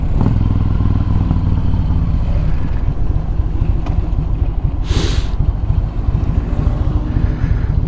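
A motorcycle nicknamed the Frankeglide rumbles along on a ride, its engine loud and continuous under heavy wind buffeting, with a brief whooshing gust partway through.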